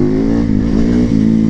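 An Italian motorcycle engine revs close and loud in a short burst, the throttle rising and easing with a deep, throaty tone and no voices over it.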